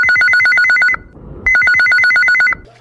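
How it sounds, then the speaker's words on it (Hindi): An electronic telephone ringtone for an incoming call to a Chhattisgarhi song phone-in radio show, sounding as two loud, clear bursts of rapid warbling tones with a short gap between them. "आओ देखते हैं कौन संगवारी के पहली फोन कॉल आए है"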